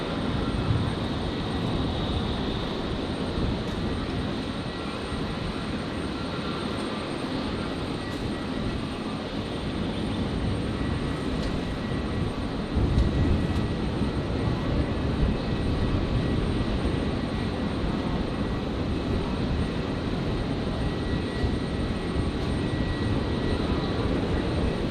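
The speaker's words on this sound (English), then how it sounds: "I've just seen the Global Express Takeoff on 379." A Global Express business jet taking off at Brisbane airport, its engines producing a loud, sustained roar from a distance that holds steady for the whole stretch, with faint distant background noise.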